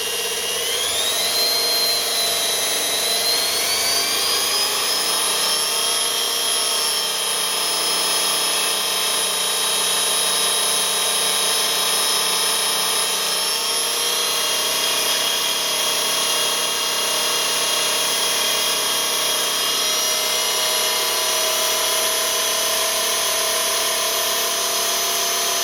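A workshop motor, fitted for noise reduction, runs at about 2000 rpm, producing a steady high-pitched whine with a few shifting tones that sweep and settle, alone and continuous throughout.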